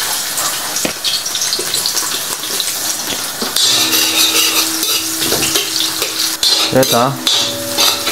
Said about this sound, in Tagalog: Lagyan natin ng sibuyas at bawang.